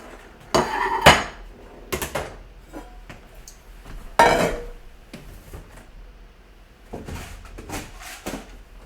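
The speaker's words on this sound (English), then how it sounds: "Of course, we're going to break out the rice cooker." A rice cooker is pulled out and handled in a kitchen, giving loud hard clunks and knocks of metal and plastic in irregular bursts, close by with quieter rattles between them.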